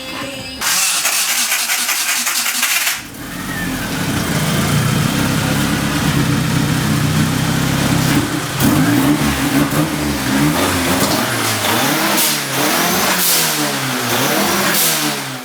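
A 1991 Dodge Colt with a 4G63 engine cranks and catches after years of sitting, then runs loud and close with repeated revs rising and falling over a rough idle.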